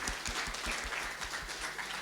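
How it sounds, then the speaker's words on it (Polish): Audience applause for expert guests at a Q&A event, a steady patter of many hands clapping throughout, moderately loud and without speech. "Wielka, wielkie brawa dla naszych, dla naszych osób eksperckich"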